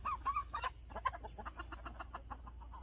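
Backyard chickens cluck in a quick string of soft, close clucks and short warbling calls, a busy rhythmic chatter against quiet background noise.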